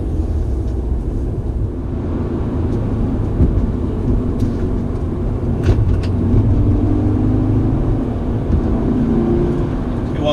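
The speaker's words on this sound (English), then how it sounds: "You can actually hear the sound of the engine, which you're supposed to bloody hear" Subaru WRX engine drones steadily while driving on new Bridgestone Adrenalin 235/R17 tyres, a continuous low hum with road rumble from inside the car, even and moderately loud throughout, no voices.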